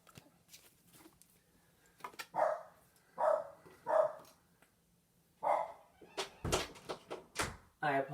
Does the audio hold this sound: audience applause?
no